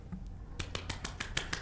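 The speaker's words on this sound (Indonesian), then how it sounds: "Tepuk tangan sendiri." A lone person clapping at a cultural event, about seven sharp, evenly spaced claps after a short quiet lead-in, close and fairly loud in a quiet room.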